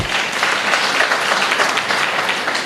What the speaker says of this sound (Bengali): আপনাদের নিজেদের জন্য একটা জোরে হাততালি দেওয়া উচিত